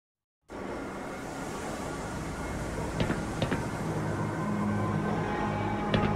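An underground tram in the Black Mesa research compound rumbles steadily along its rails after a sudden start, with a few metallic clanks and rattles rising over the continuous low drone.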